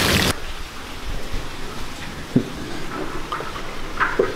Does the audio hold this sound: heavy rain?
yes